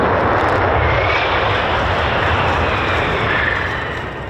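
F-15 fighter jet making an emergency landing after a hydraulic failure left it unable to brake, a loud, continuous engine roar that fills the whole stretch and eases off slightly near the end.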